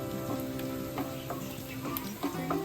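Garlic fries in a pan with a soft, continuous sizzle, broken by light scraping taps from stirring about every half second, with no voices.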